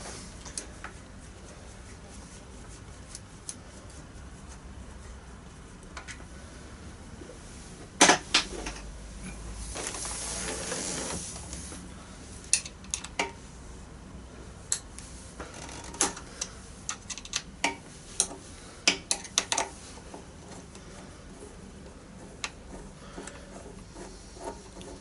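An Allen key loosening bolts on a 2000 Yamaha R6 during air filter work: sparse metallic clicks and taps, a brief rattling scrape near the middle, then a cluster of sharp ticks, fairly faint and close.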